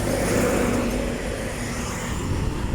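Steady roadway traffic on C5 Road in Taguig, cars speeding past in a continuous close, loud wash of engine and tire noise with no break.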